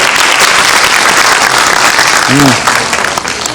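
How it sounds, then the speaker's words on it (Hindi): Loud, dense applause fills a hall at a Brahma Kumaris New Year gathering, sustained and close before tapering slightly at the end, with a brief voice heard near the close. "जोरदार तालियां।"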